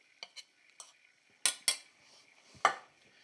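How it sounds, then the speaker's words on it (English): A slotted spoon lifts cooked apples out of a pan of caramel, giving a few sharp metallic clinks and scrapes spaced irregularly, close and fairly quiet against near silence. "I'm using a slotted spoon to do it."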